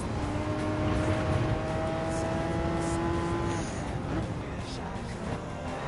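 Porsche race cars roar through a double overtake in Gran Turismo 7's Porsche Cup: a steady, loud engine drone with a sustained high whine, several engines blending as they pass close.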